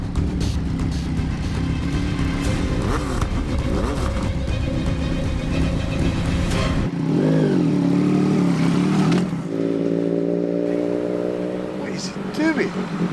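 A motorcycle on a mini race track in Thailand revs and shifts during a lap, its engine note climbing and falling in steady pitch sweeps, loud and close, then easing to a lower drone.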